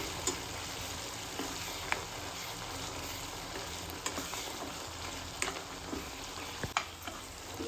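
Chutney sizzling and frying in a pan on a stove turned low, a soft continuous crackle with scattered sharper pops and occasional stirring clicks, heard alone.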